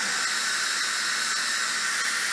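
Steady, loud hiss of steam venting from an Instant Pot pressure cooker during release while cooking pinto bean soup, constant and unbroken throughout with no talking.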